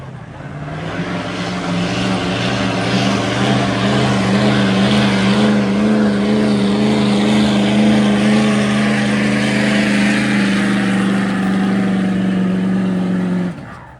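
A tuned 2011 Ford F-250 with an aftermarket exhaust roars at a truck and tractor pull, its engine droning loud and steady with a rising pitch, then cutting off abruptly near the end.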